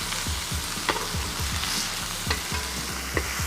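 A NY strip steak sizzles loudly in a hot pan as it is flipped, a dense frying crackle with a few sharp spits and scrapes of the tongs, no voices.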